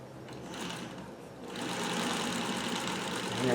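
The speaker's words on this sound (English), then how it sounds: "on its own, it's a straight stitch machine" A Singer 301 straight stitch sewing machine runs steadily with a fast, even mechanical whir and clatter, picking up slightly in speed partway through, close by with no talking.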